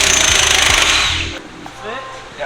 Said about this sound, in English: now we just gotta unbolt the subframe and the trans mount.